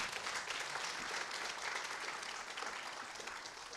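Applause fills the hall at a women's leadership conference, a dense, even wash of many hands clapping, faint and distant, tapering slightly toward the end.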